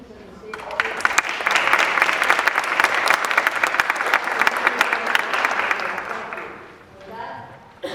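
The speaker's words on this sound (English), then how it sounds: "let's give a round of applause to the musicians and the stage" An audience applauds the musicians at a live theatrical law event about Bob Dylan: dense, loud clapping swells in quickly, holds steady for about five seconds, then fades, with a brief voice near the end.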